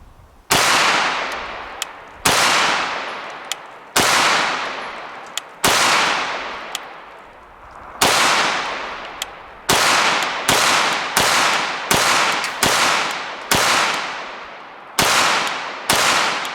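An Angstadt Arms UDP-9 pistol fires at an outdoor range, about a dozen loud, sharp shots with ringing decays, spaced unevenly at first and then coming in quicker succession.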